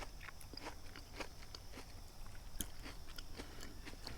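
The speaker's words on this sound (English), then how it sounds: "Only thing I can hear is my chewing." Close, quiet chewing and crunching of food at a dinner by a campfire during solo kayak camping, with soft irregular bites repeating over a faint outdoor background.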